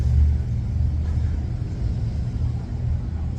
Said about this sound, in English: this is all the vehicles passing through and stuff